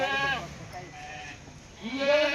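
Several goats penned inside an enclosure bleat in wavering, harmonic cries, one near the start and another louder call at the end, with a quieter stretch of murmuring in between.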